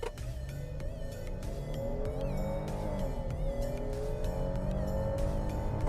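A 2023 Kia Telluride SUV in sport mode at full throttle, its engine droning loudly and climbing steadily in pitch as it accelerates, with constant road and wind roar and no talking.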